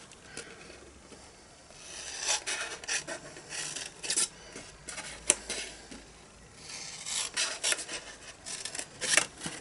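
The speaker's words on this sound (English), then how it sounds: "And then we're going to cut up to the score lines on the rest." Scissors snip paper tabs up to score lines while a bag with a fold-over rim is made, giving faint, close, irregular rasping cuts and paper rustles.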